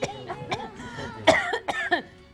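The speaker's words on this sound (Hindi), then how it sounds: "माचिस से खांसी हो गई मुझे" Several harsh coughs from match smoke come in quick bursts, close and fairly loud, with a short pause before a final cluster of coughing.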